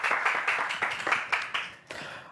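Studio audience clapping during a live Christmas tree decorating broadcast in Gomel, a moderate round of applause with uneven bursts of hand claps, close and fairly loud, fading near the end.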